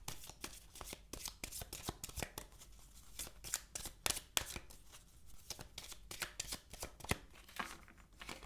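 Tarot cards being shuffled by hand, a quiet, close run of crisp riffling flutters and snaps repeating in quick bursts, with no voices.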